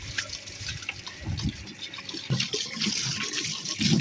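Water splashes and trickles over a dirty table being washed down outdoors, with uneven pouring and scrubbing bursts close by, no voices.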